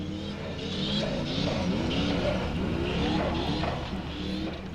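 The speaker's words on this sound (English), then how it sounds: "Listen to the engine just work here. On and off the throttle, very responsive, and Andri Már making it all the way." A Formula Offroad car's engine revs hard and steadily as the throttle goes on and off during a steep climb at an Icelandic competition, loud and sustained.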